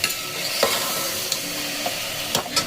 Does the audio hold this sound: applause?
no